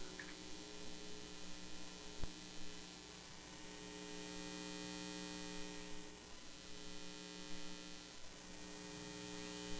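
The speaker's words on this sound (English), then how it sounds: "So you're going to be hearing some humming noises. You can get some changes in the noise by moving it around." Humming noise picked up by a homemade antenna and played back: a steady, dense electrical buzz with strong harmonic drones and faint static, slowly shifting in texture with occasional faint clicks, continuous throughout and without speech.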